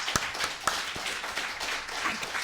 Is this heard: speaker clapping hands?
yes